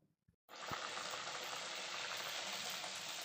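Kachori made with green peas dropped into hot oil in a home kitchen pan, setting off a steady, loud, broadband sizzle that starts abruptly after a brief silence and keeps going without letting up.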